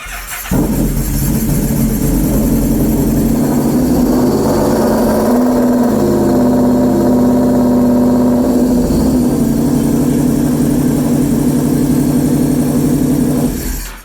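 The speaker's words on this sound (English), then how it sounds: "So now that it's in there, go ahead and fire up your bike." A Yamaha VMax 1200 motorcycle, choke on, fires up and settles into a loud, steady idle close by, holding a constant drone for about thirteen seconds before cutting off, with no one talking.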